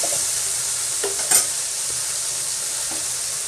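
Coriander leaves frying in oil in a pan before a chickpea-flour mixture goes in, heard as a continuous bright hiss with a single brief clatter of the stirring spoon.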